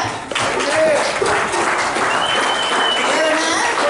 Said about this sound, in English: Everybody give them all a hand clap.